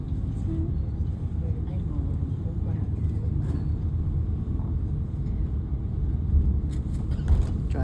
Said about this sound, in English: Driving around Athens.